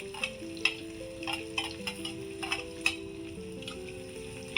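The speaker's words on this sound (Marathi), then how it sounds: "हे सगळं आपण हलवून घेत आहोत एकदा आणि आता वरून टाकत आहोत कांदा" Onion being stirred into hot oil with curry leaves for poha, giving a soft sizzle broken by repeated scraping strokes of a spoon against the pan, while a tonal melody hums along underneath.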